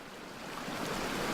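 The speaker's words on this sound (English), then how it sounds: "We're following this stream up the canyon." A creek flows up a canyon with a steady, broadband rushing wash of water, moderately close and swelling slightly over a short moment, with no voices.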